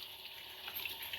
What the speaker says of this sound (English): I'm going to run this under the water,